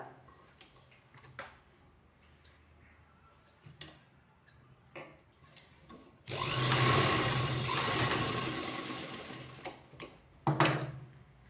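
Sewing machine stitching a plain blouse, a few scattered clicks and taps, then a loud, steady mechanical whir for several seconds, followed by more isolated clicks.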